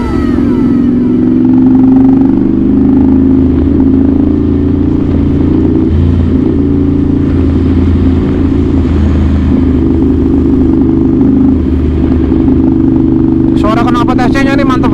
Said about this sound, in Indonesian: Suara knalpot SC nya ini mantep banget bro.